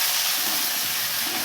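Small tomato frying in oil for a kadle kalu sagu base, a constant close, loud, bright sizzle with no pauses.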